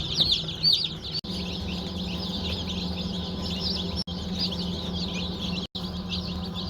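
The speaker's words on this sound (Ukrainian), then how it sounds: "Вибрала курчатка." Many chicks, including naked-neck chicks, and hens cheep and cluck together in a busy, continuous chorus over a low steady hum, with a few brief cutouts.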